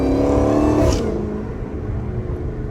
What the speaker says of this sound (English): I'm just letting y'all boy hear the exhaust. Supercharger, you know.